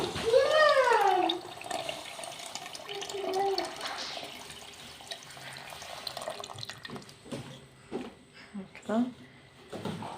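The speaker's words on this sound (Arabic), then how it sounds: "نلوح الماء هكذا." Water poured into a cooking pot of frying onions and base for freekeh soup, a broad splashing gush that fades into a steady simmering hiss, with someone speaking over it.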